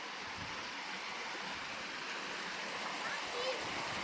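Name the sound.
waterfall of the Pršjak stream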